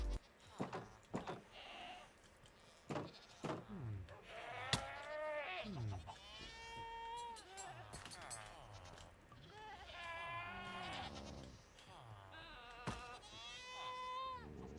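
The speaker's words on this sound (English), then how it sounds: "That's a lot of goats." A crowd of goats on a farm in a video game bleat over and over, with wavering, overlapping cries close by, mixed with some clicks and knocks.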